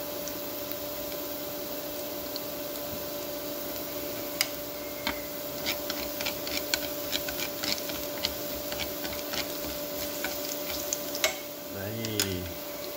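Garlic frying in oil in a pan before marinated pork belly goes in, a steady low sizzle with scattered ticks and stirring clicks throughout, close up.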